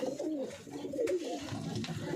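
A pigeon hen coos in soft, drawn-out low calls close by, with fainter cooing and light ambient noise around it throughout.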